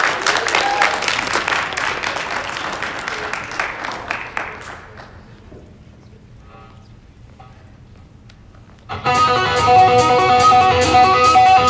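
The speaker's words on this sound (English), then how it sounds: "let's give a round of applause for our first act." Audience applause for a first act at a live music festival show, a dense burst of clapping that fades to near silence, then a loud full band or crowd noise erupts.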